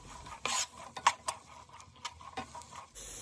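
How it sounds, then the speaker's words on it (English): A spoon stirring onions in hot olive oil in a pan, close scraping and clinking against the metal in quick irregular strokes, with faint sizzling underneath. "I'm going to add in my onions and give that a quick stir."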